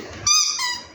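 A dog squeezing a squeaky toy, one bright, sharp squeak rising suddenly and fading over under a second, close and loud.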